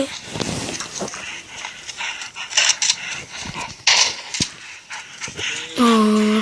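A dog barks and yips in scattered bursts in the video game Into the Dead, among other noises while people talk over it. A steady tonal sound comes in at the end.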